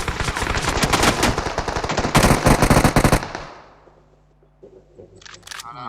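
Rapid video game gunfire, a dense automatic burst rattling loudly for about three seconds before cutting off, followed by faint scattered clicks and a brief high electronic tone.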